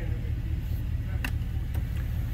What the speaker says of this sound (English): Move your truck so I can let you in.